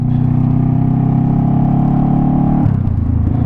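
A Honda CBR 500R motorcycle engine running close and loud, holding a steady throbbing idle-like note before the pitch shifts and roughens near the end.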